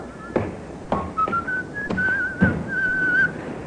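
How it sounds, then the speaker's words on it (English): A man whistles a rising, wavering tune, clear and fairly close. Several dull thumps and knocks sound in the background. "that fella there, whistling"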